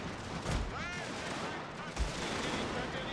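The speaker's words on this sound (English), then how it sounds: "All artillery needs to be fired into this direction." Artillery booms in a Prussia strategy game, two deep, distant blasts about a second and a half apart over constant battlefield gunfire and ambient noise, with a voice speaking.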